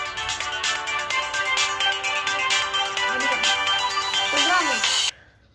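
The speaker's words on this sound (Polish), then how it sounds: "Jak zwykle na nagrywkach ktoś musi zadzwonić." A mobile phone ringtone plays an incoming-call melody during a Brawl Stars gaming session, looping tonal notes over background game sounds until it cuts off abruptly near the end.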